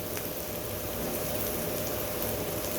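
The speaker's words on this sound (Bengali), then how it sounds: "পেঁয়াজটাকে ভেজে নেব।" Onions frying in a pan with turmeric, a steady dense sizzle and crackle heard up close and alone, unbroken throughout.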